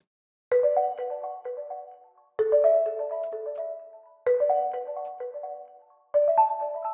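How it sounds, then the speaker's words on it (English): Four short bell-like mallet phrases play in sequence, each starting with a bright strike and ringing melodically before a brief pause. "and these are the mallets. Sounds like this."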